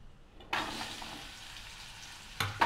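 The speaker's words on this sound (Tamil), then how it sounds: "இப்போ நம்ம எடுத்து வச்சிருந்த வெங்காயத்தை அதில் போட்டுடலாம்." Onions dropped into chana dal frying in oil set off a sudden sizzle that settles into a quieter, steady hiss, with a second sharp burst near the end, close and fairly soft.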